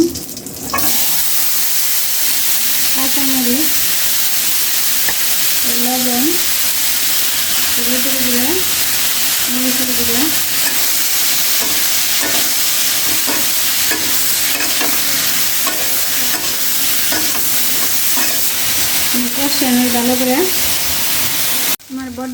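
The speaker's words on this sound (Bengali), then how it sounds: "তেলের মধ্যে জিরাটা দিয়ে দেব মানে সবজিটা দিয়ে দেব" Cumin and vegetables fry in hot oil, giving a loud, steady sizzle with scraping and stirring throughout, while a voice talks intermittently over the cooking.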